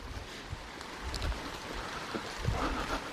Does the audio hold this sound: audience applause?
no